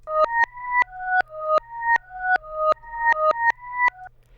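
A repeating series of short pulsed tones, each swelling then cutting off abruptly, about a dozen in steady rhythm, giving a sucked-backward, reversed playback feel.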